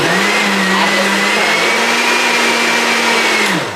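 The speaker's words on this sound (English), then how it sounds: "my blender is not the best blender" A kitchen blender whirs continuously at full speed, blending a smoothie with almond milk, a loud steady motor drone that winds down at the very end with no voices.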